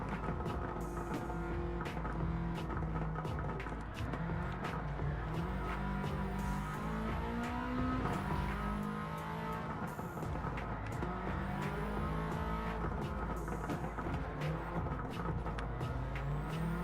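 A car drifts through turns in Gran Turismo 7, its engine droning steadily with shifting revs while tires squeal in repeated sliding wails, moderately loud and continuous.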